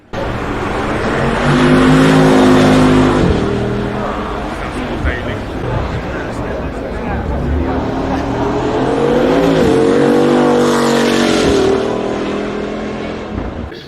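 A Bugatti hypercar engine roars close by, revving and accelerating in long sweeping pulls, with people talking over the engine noise.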